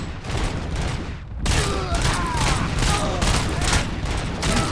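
Sustained gunfire from the RoboCop video game, a loud continuous burst of rapid shots that briefly dips and then resumes at full intensity, with no speech.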